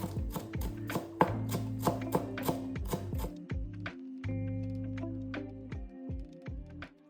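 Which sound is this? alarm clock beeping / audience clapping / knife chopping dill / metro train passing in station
knife chopping dill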